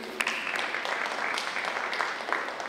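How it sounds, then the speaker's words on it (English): Audience applause for a seminar speaker at a university College of Education student support event, a steady, moderately distant clapping wash with a few sharper individual claps, with no talk over it. "Let's applaud Katisha Ramgu."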